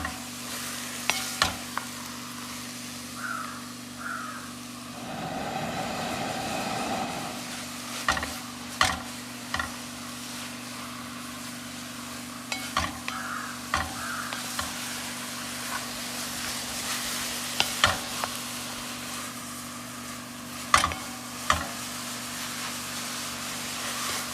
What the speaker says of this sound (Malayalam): നല്ലപോലെ ഒന്ന് ചിക്കി തോർത്തി എടുക്കണം